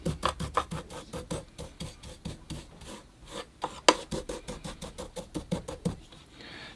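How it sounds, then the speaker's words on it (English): Wet bonsai soil is smoothed and pressed down by hand or tool, giving a steady series of scratchy, gritty rasping strokes in an even rhythm, close up with no talk. "Smoothing and compacting of the soil a bit."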